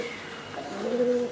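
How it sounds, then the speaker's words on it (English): A pigeon coos softly during a yoga teacher training in India, a brief low coo rising near the end over quiet room tone. "Can you hear that sound? It's a pigeon, our little friend, who constantly tries to distract us while we're meditating."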